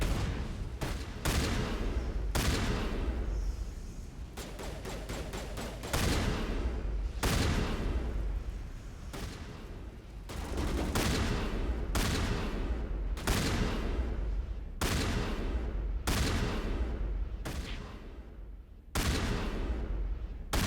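Sci-fi firefight in Mass Effect: loud, close bursts of gunfire in repeated volleys, with sharp shots and rapid strings of rounds separated by brief gaps and no voices over them.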